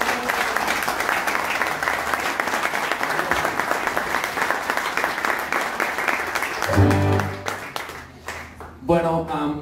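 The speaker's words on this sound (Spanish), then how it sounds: "Quiero un aplauso." Audience applause at a guitar masterclass in Mexico, steady dense clapping filling most of the stretch before thinning out, with a voice and some tonal sound breaking in near the end.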